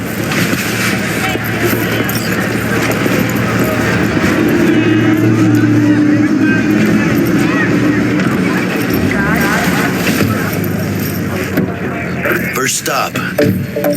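A factory-new car driving in Cyberpunk 2077, a steady engine and road rumble running underneath continuous talk from people inside the vehicle.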